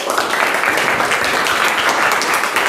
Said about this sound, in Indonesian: Oke, aplaus buat kita semua.